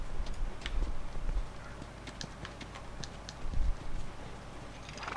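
Horse hooves clop in The Last of Us video game, a soft irregular series of hoof falls on the ground beneath faint background noise, without speech.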